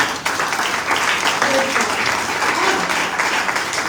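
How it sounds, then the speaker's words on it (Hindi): Church congregation applauding during a Hindi-Urdu sermon, steady full-room clapping that stays loud and even throughout, with no voices over it. "तालियां बजाएं लोगों के लिए।"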